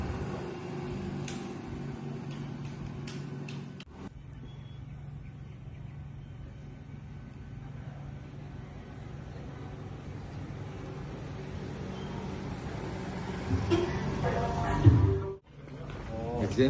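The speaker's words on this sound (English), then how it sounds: "This video shows a car passing by near our recording area" A car passing close to a recording spot near a main road and car park, its broad rumble holding steady and swelling toward the end before cutting off sharply, with faint voices in the background.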